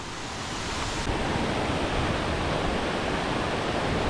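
Šengergi waterfall in Albania, a loud, steady broadband roar of falling water heard close up, swelling slightly at first and then holding constant without any voices.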